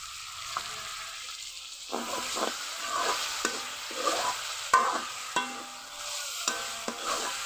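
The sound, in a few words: chicken mince frying with chillies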